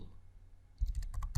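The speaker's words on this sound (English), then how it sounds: "use your command line to install Jupyter, and typing pip install" A few quick keystrokes on a computer keyboard as a command is typed, soft close clicks arriving in a short burst after a near-silent pause.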